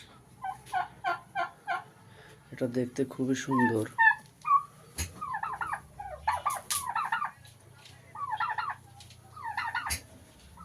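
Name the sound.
turkeys gobbling on a poultry farm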